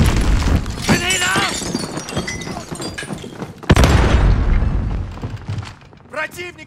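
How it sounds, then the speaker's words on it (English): Grenade blast in Call of Duty Modern Warfare, a loud broadband boom and rumble at mid-clip amid chaotic gunfire, shattering debris and shouting players' voices, with a second burst near the end. "Throwing grenade!"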